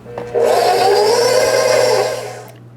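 An electric mixer whirs through a Cool Whip mixture, starting abruptly, holding a steady loud high whine for about two seconds, then spinning down and stopping.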